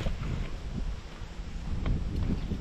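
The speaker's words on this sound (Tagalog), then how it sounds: "pressure ng hangin dito, grabe" Constant low rumbling buffeting of strong typhoon wind against the microphone, steady throughout with no clear talk, during a Signal No. 2 storm.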